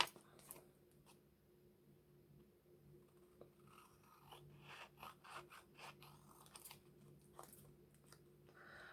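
Scissors trim paper pieces for a junk journal, a series of soft, close snips and crisp paper rustles in an irregular rhythm, quiet and alone.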